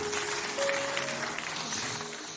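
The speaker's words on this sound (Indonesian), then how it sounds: "Beri tepuk tangan untuk kebenarannya." A church congregation claps during a sermon, steady applause heard from across a reverberant hall at moderate volume, with a few voices mixed into the crowd noise.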